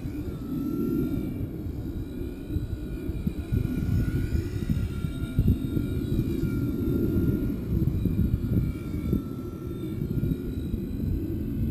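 A Blade mCP X 2 RC micro helicopter with AS3X in fast flight gives a steady, fairly loud rotor and motor drone that swells and eases as it passes, with no talk over it.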